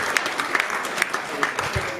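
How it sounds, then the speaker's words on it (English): Applause from a magic show audience in a lounge, a short burst of clapping with distinct individual claps standing out over a fairly quiet room. "Give him a big round of applause."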